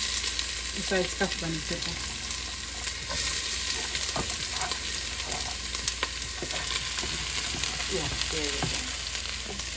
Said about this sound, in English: We're gonna fry up all of this, guys. Just a stir fry, quick.